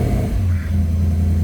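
A 2016 Porsche Panamera GTS engine idles close by, a steady deep rumble with a brief throttle blip swelling the low end, heard alone without voices.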